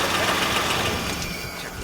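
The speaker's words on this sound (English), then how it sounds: "Let it run for a little bit." A 1995 Nissan Pathfinder engine idles steadily just after a fresh oil change, giving a close, even mechanical hum with a faint ticking texture and no talk.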